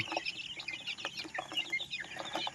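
Backyard chickens clucking near a home-built roosting platform, several birds giving short overlapping clucks and calls, moderately quiet and steady with no one talking.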